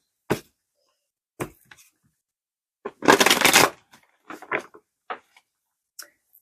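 Tarot cards shuffled by hand in scattered bursts: a few single snaps, then a dense flurry of riffled card slaps, then more sparse flicks, close and crisp against near silence.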